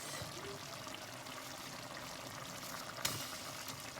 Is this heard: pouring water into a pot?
yes